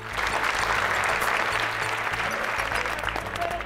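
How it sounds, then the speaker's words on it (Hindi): Lively audience applause at a televised beauty contest, full and continuous clapping for the whole stretch, with a low rumble underneath. "तालियां"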